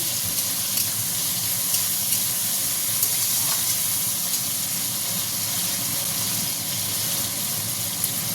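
Soybeans sizzle and hiss steadily in a hot pan with tomato and salt, a continuous bright frying crackle with small pops throughout, close and fairly loud with no talking.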